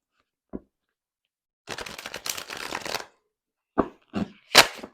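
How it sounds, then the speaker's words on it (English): Tarot cards are riffled and shuffled in a dense crackling burst, then a few sharp taps and riffles follow, close and loud with no talking. "I'm able to get a really good shuffle"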